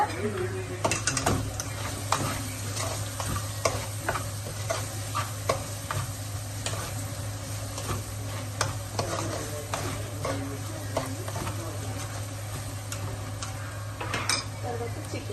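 Chicken liver frying in a pan with turmeric, a close sizzle under a low steady hum, with frequent sharp clicks and scrapes of a spoon stirring throughout; a voice talks intermittently.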